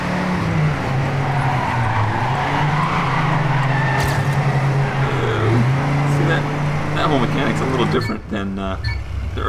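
A Trackmania 2 Canyon car slides through a turn, tyres skidding and squealing under a steady engine drone for several seconds before a rattling scrape near the end, with someone talking over it.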